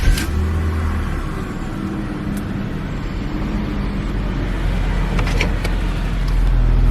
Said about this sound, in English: let's do a quick startup of each of these cars and see what they have under the bonnet